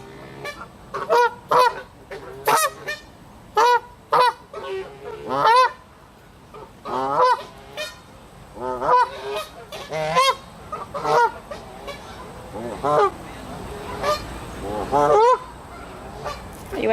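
A goose honks loudly and repeatedly at close range in uneven bursts, with short pauses between the calls.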